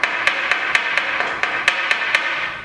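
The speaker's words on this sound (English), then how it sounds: "turn it upside down and tap all of this powder down into the" A makeup powder brush is tapped against a surface to settle loose powder into its bristles, giving about ten light, evenly spaced taps under a steady background hiss.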